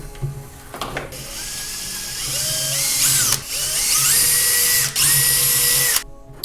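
A power drill bores holes for mounting HID projector headlights on a Chevy Cruze, whining up and down in pitch with repeated starts and stops, close and loud, with brief pauses between bursts.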